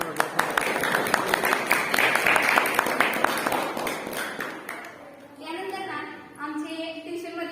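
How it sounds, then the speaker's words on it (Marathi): Dense clapping from a crowd honouring teachers at a school National Mathematics Day felicitation, fast and steady for about five seconds before fading as a voice takes over. "आणि टाळ्या"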